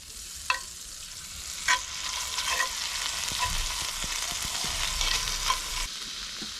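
Golden perch fillets sizzle in a hot skillet with plenty of butter and garlic, a steady close crackling fry with a few sharp pops and spatters, no voices.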